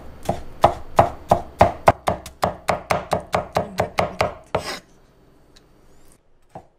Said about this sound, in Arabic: اخترت التبولة لأنه فيها كتير تقطيع لأنه ريحة البقدونس طيبة.